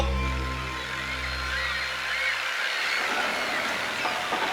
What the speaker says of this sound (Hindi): ये शिप के हॉर्न का ही आवाज है।